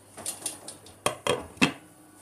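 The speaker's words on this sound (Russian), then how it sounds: "Накрываю крышкой." A metal lid set onto a cooking pot in a home kitchen: a few light clinks, then three sharp close clatters as it settles, with no talking.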